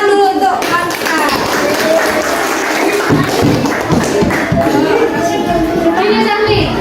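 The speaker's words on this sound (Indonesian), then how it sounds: "Tepuk tangan dulu untuk Angka." Primary school children clap in a classroom during a social studies lesson, a burst of uneven hand claps and thumps with kids' voices and chatter over and around it.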